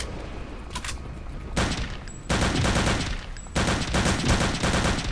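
Dense automatic gunfire from Return to Castle Wolfenstein, loud and close, with rapid bursts that jump in intensity twice and keep rattling continuously to the end.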